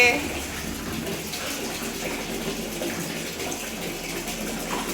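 Tap water runs steadily into a tub as a dog is bathed, a continuous close gushing wash of sound with no break.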